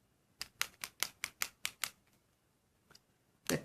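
Brusho colour or glitter tapped onto card with a tool: eight quick, evenly spaced dry taps, close and crisp, then a pause, one faint tap and a final louder cluster.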